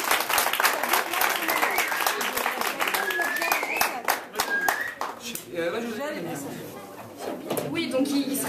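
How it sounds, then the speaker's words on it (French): A theatre audience at a Syrian play performed in French claps for the actors, sharp individual claps in an uneven rhythm, with voices and chatter mixing in over the applause as it fades. "Donc applaudissez-les bien"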